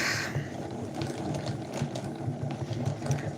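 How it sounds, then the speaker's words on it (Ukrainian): Embroidery thread is rewound by hand during a handicraft session, giving a steady close whirring with fine rapid ratchet-like clicks throughout and no talk. "перемотаємо нитки, пов'яжемо гарненько"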